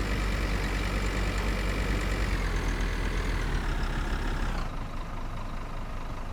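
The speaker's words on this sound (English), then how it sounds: "Motor's a little loud" A loud, steady engine drone from a truck motor in the video game Voxel Tycoon, like an idling truck, with a sudden drop in level toward the end.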